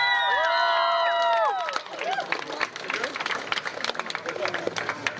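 A live concert audience at Electric Blocks claps and cheers, a dense crowd roar with whoops and shouts over the fading tail of a band's last chords.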